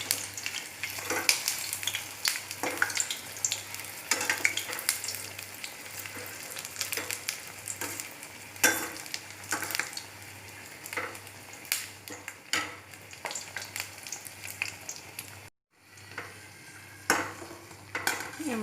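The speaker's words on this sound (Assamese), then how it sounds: "আমাৰ বেঙেনা ফ্ৰাই ৰেডি হৈ গ'ল, ফ্ৰাই কৰি হৈ গ'ল।" Eggplant slices fry in a pan with a steady close sizzle, broken by frequent scrapes and clinks of a utensil stirring, and a brief pause near the end before the sizzling resumes.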